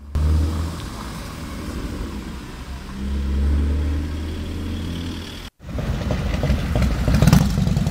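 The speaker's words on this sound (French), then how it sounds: "et là arrive une voiture verte, une Simca 1000 Rallye 2" A green Simca 1000 Rallye 2 vintage car drives past on a classic car tour, its engine rumbling loud and steady, swelling as it nears, then a brief cut and a rougher, revving engine sound close by.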